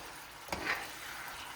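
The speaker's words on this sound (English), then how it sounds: "Now I'm just going to add the beef. Give it a stir." Beef sizzling in a hot pan with ginger, a faint, steady frying hiss with a brief scrape of stirring near the middle.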